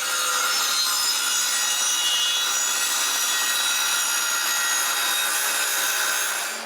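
A handsaw cuts through the end of a log for firewood in a steady, rapid back-and-forth rasp, loud and close, with no pauses before it fades at the end.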